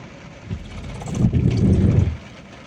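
A four-wheeler drives through floodwater from the flooded Kajali river. Its engine gives a low, steady rumble that swells for about a second as it passes, then eases off. No voices are heard.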